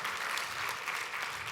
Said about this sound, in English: Let's give Kelly another round of applause